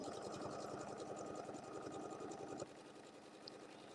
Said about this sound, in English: I'm going to turn it around and sew close to the other side.